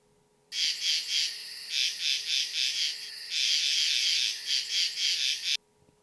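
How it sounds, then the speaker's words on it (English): Frogs croak in rapid, pulsing bursts, a dense chorus of rhythmic calls that runs steadily for about five seconds, close and fairly loud, with no talking over it. "Look, it's the friendly frogs."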